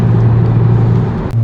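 A 2022 Audi S5 Sportback accelerates with a steady loud engine drone and low rumble throughout, the turbos spooling up, and a brief faint chirp from the intake is barely picked out near the end.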